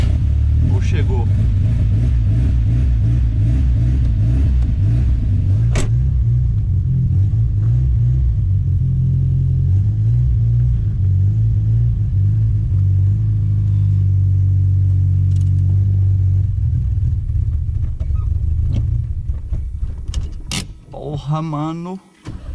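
A Chevette car engine runs steadily with a low, rumbling drone that rises and falls in revs, loud and close throughout, carrying an odd mechanical noise before tapering off near the end.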